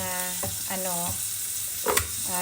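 Bacon sizzles steadily in a dry pan with no oil, a continuous close frying hiss broken by a few brief clinks and stirring sounds, with no talking.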